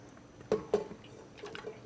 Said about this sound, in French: Passez votre fumet au chinois, foulez et réservez.